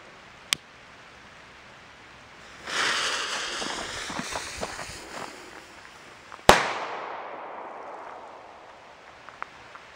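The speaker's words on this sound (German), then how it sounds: "jetzt der kleine, normale rote Kanonenschlag mit einer richtig schönen Wandung." A small red Kanonenschlag firecracker goes off outdoors: a sharp click, a few seconds of hissing fuse, then one loud, sudden bang that rings out and fades into echo, with a faint crack earlier and after.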